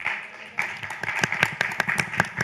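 An audience applauds a panel discussion at a construction-sector productivity and innovation event, brisk, fairly close handclaps building into a steady round of clapping for a couple of seconds.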